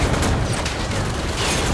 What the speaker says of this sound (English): Enemy bombardment is incoming.